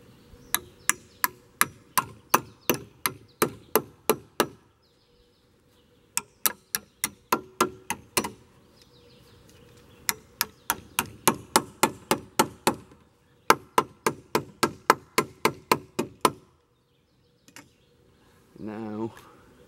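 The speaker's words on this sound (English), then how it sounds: "you want to go through with a hammer, in this case I'm using an axe" An axe used as a hammer strikes a metal Simpson Strong-Tie A35Z joist bracket in quick, sharp bursts of metallic taps, several rapid runs separated by brief pauses, close and crisp, with a short voice at the end.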